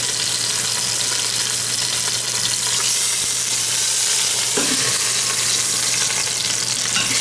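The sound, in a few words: searing lamb shanks in an Instant Pot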